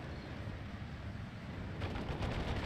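Machine gun fire in the World War II strategy game Steel Division: Normandy 44, a faint, distant rattle of automatic bursts that grows slightly more distinct partway through, under steady battlefield noise.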